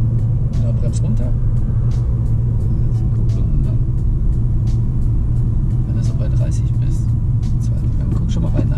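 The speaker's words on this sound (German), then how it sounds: "Das war die Motorbremse wieder" A learner's car slowing under engine braking during a driving lesson gives a steady, loud low rumble of engine and road noise throughout, with faint voices inside the cabin.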